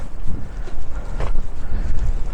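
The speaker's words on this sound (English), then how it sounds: "on such a breezy day" Breezy coastal wind on a clifftop above the sea at Ilfracombe, Devon, buffeting the microphone in steady low rumbling gusts with no voices.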